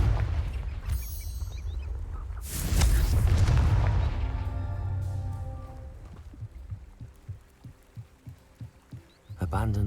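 A Confringo blasting spell goes off in Hogwarts Legacy with a deep booming burst, followed by a rumbling decay and a run of rhythmic thumping pulses toward the end.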